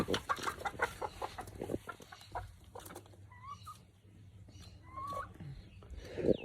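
Backyard chickens in Australia cluck and call while food is tossed to them, with rustling and pecking noises close by and a couple of short calls mixed in.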